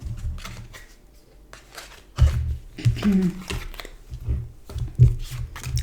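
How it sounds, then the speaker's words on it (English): Tarot cards are shuffled by hand close up with soft riffling and slapping bursts and papery rustles, recurring unevenly under quiet talk. "So I'm going to mix the cards again."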